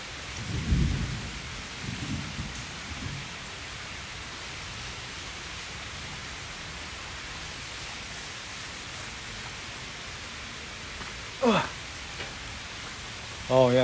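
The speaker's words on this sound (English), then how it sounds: "Oh yeah, it's raining a little harder now." Rain falls on an outdoor aquarium pond, a steady soft hiss of drops across the water with a few low rumbles early and brief louder knocks later.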